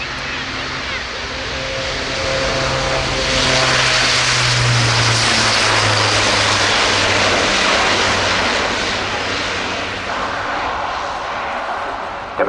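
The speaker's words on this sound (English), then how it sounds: "Demonstrating there what was called a max effort takeoff, which is accelerating to beyond the rotate speed" Airbus A400M military transport of the German Air Force performing a maximum-effort takeoff at an air display, its four turboprop engines roaring loud and steady with a droning propeller hum that swells and holds near, then eases slightly.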